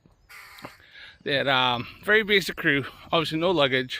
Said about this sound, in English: Crows kicking off there.